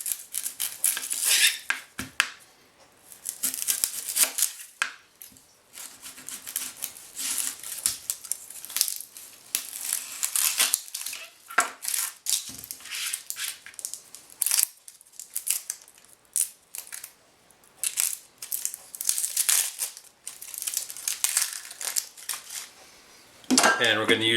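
Half an onion is rubbed down the large holes of a metal box grater, giving repeated scratchy rasping strokes in an irregular rhythm, close and fairly quiet, with someone talking over parts of it.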